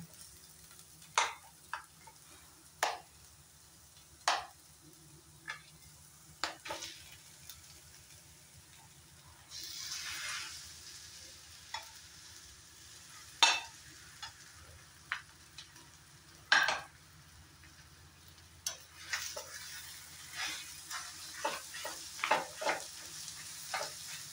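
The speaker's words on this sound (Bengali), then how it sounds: "এখন এখানে মেখে রাখা আলু সিদ্ধটা দিয়ে দেব।" Mashed boiled potato goes into a pan of fried onions for aloo bharta, with soft sizzling underneath and a run of sharp spoon scrapes and taps on the pan, quiet and close, spaced irregularly throughout.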